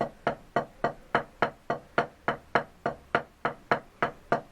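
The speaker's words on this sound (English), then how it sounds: "if you're going to put the hands together to make a double stroke roll" Even, rapid wooden drumstick strokes in a steady slow double-stroke pattern, about three to four per second, crisp and close.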